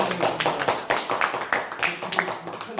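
A room of people claps together at a meeting with the Incheon Jung-gu district head, giving steady, fairly close applause that swells and fades in uneven waves for a few seconds.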